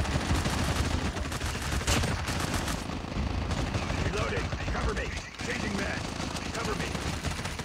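Heavy automatic gunfire in COD Mobile's zombie mode tearing into turrets, a loud continuous rattle of rapid shots with dense game noise, briefly dipping before resuming.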